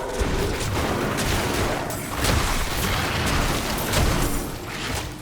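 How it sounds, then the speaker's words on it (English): Enemies in Diablo 4 blow apart on death in a dense run of overlapping bursts and booms, loud and chaotic, with several stronger blasts standing out over the game noise. "An explosion when they die looks really cool."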